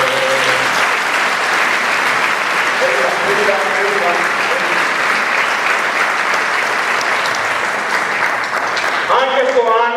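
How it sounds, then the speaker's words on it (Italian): Audience applause at the 2019 Vecia festival in Ponzano Veneto, loud continuous clapping under music with sustained tones fading in and out, and voices returning near the end. "Applauso."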